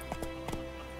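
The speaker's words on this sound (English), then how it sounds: "Run, Roach" Horse hooves in The Witcher 3 video game, a few soft clip-clop beats over a steady background hum and game ambience, faint and brief.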